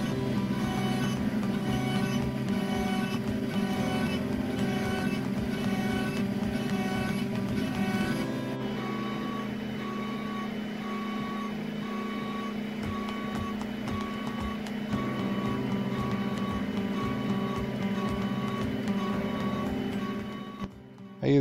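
A Shapeoko 3 CNC router mills a 1-inch thick aluminum putter head on a first pass at 75 inches per minute, giving a steady loud whine with layered tones and faint repeating beeps under the cutting noise.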